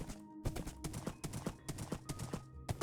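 Horse hooves clip-clopping in Minecraft, a brisk, regular run of close, sharp hoof clops repeating steadily throughout with no talk.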